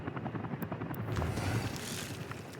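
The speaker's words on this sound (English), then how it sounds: "I just want to make sure I've got a helicopter here ready to go" A helicopter in the city-building game Workers & Resources whirs with a steady, rumbling rotor chop that swells slightly, with no voices over it.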